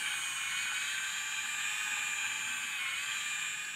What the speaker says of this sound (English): I'm gonna mix it with my electric mixer, which is really amazing